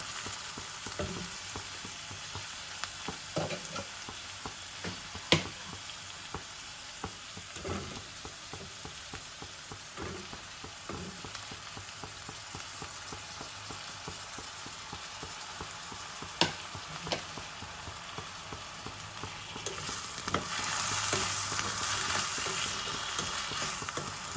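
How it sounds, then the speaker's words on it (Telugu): Potato pieces frying with onions in a pan for a potato-tomato curry, a long steady crackling sizzle punctuated by scattered utensil knocks, growing louder and brighter near the end. "ఉల్లిపాయ వేగిందండి ఇప్పుడు బంగాళదుంప ముక్కలను వేద్దాం"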